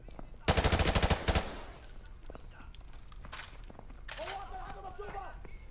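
Rapid automatic gunfire from a Modern Warfare Remastered firefight, a loud burst of about a dozen shots followed by sparser distant shots, with talking over the top.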